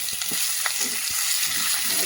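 Capsicum and chillies frying in hot oil with a steady, close sizzle, broken by scraping stirs of a spatula in the pan during home cooking.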